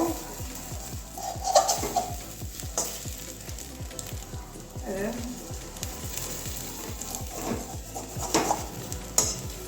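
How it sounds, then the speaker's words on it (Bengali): A metal spatula chops through a cabbage omelette in a frying pan, with repeated scraping taps against the pan over a constant sizzle of hot oil, close and fairly steady. "যেহেতু খুন্তি দিয়ে কাটছি"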